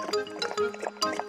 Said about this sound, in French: Elle remplit un bol d'eau bien fraîche.